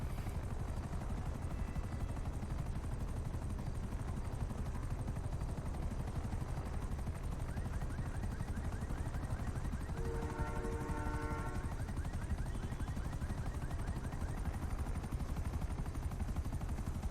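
Rapid gunfire bursts in a shooting video game aimed at a car, a steady clatter of shots over continuous dense game noise, with a brief louder volley in the middle.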